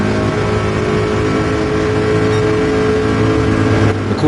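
The Corvette race car's engine in Gran Turismo 7 holds a loud, sustained drone during a close final-lap battle, its pitch nearly constant, with no voices over it.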